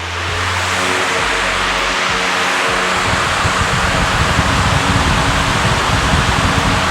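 A Vyper Turbo garage fan runs at maximum power, giving a loud, steady, broadband rush of moving air that holds without a break from start to finish, with no voices.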